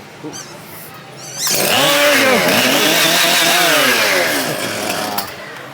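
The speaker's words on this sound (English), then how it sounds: "we got more chainsaws over here" A chainsaw roars to life and runs loudly nearby at an amusement park Halloween event, its pitch rising and falling, with a voice heard briefly beside it.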